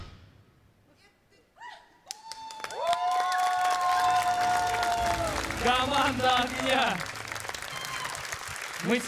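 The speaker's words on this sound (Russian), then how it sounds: "эти аплодисменты тебе" Applause from a studio audience for a singer on the Russian TV talent show Battle of Talents, swelling into sustained clapping and cheering while a host speaks over it.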